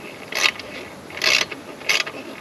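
A ratchet wrench tightens the bolts on a BKD exhaust spoiler in three short bursts of close, crisp clicking, with pauses between strokes and no speech.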